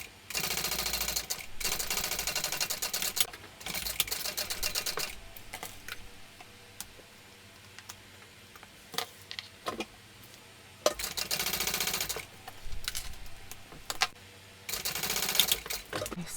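A sewing machine stitching a tote bag, running in loud rapid mechanical bursts of several seconds each, separated by pauses with scattered clicks and handling noises.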